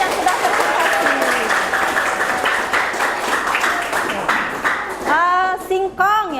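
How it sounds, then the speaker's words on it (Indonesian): A classroom group claps for student teams who just presented, a brisk continuous patter of many hands that thins out toward the end as voices take over. "Tepuk tangan sekali lagi untuk ketiga kelompok yang sudah presentasi"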